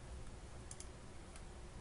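Quiet typing on a computer keyboard with a few light key clicks, including a quick double tap and a later single click, over faint background hiss.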